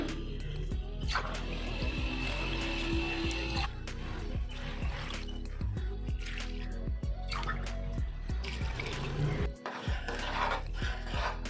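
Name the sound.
water poured by tumbler into a cooking pot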